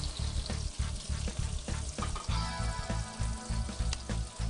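Four steaks frying in a pan over heat that has been turned way down, giving a steady close sizzle with scattered sharp crackles and pops throughout, with no talking.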